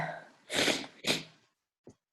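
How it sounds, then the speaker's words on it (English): Two strong, close nasal sniffles in quick succession, followed by a short faint sniff after a pause, with no talking. "Sorry, I keep sniffling."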